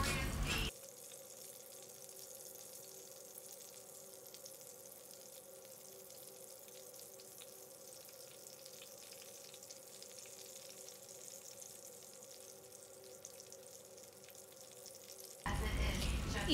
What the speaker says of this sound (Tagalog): start na natin i-fry ang mga lumpyang tuna